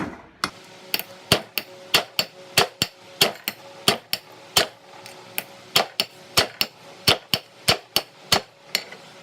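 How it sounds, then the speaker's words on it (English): Hammer striking plain mild steel on a poor-quality anvil, a quick series of sharp metallic clinks in a steady working rhythm, about two to three blows per second, close and alone. "We're using a fairly poor quality anvil, so flipping it over will even out your hammer strokes"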